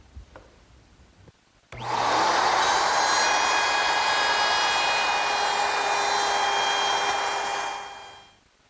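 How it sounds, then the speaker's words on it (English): A router fitted with a 1/4-inch round-over bit shapes the edge of a wooden coffee table top, a sharp motor start followed by a loud, steady high whine with cutting noise for about six seconds, then spinning down. "I'm just going to round over the outside corner with a 1/4-inch rounding over bit in my router"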